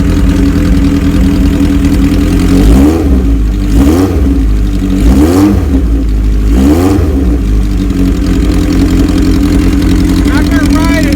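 A 1974 Kawasaki Z1 900 four-cylinder motorcycle idles loud and close, then gets blipped in four quick throttle revs that swell and fall back to a steady low rumble.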